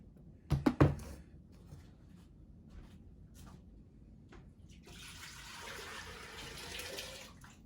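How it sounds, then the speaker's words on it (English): Ground coconut mixture is poured into a cooking pot for a Samoan dish, with a couple of sharp knocks first, then a soft, steady liquid pour that builds and continues quietly. "So now you're gonna pour it in the pot."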